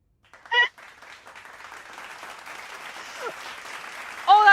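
Applause inside the video game This Bed We Made, a soft, steady patter of clapping building faintly across a few seconds, with brief voice-like chirps at the start and end.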